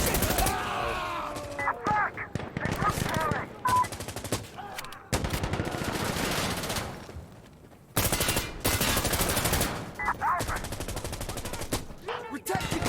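Gunfire in a multiplayer shooter video game: dense bursts of automatic weapon fire and single shots, loud and close, with brief pauses and a short gap before more rapid firing resumes.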